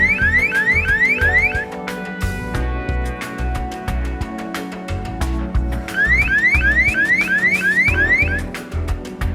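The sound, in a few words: acoustic intrusion alarm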